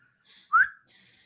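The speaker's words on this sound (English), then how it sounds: "I'm gonna give a loud whistle" A single loud human whistle rises sharply in pitch for about a quarter second, standing out clearly against a quiet, faintly murmuring background.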